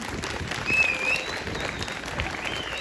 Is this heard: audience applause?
yes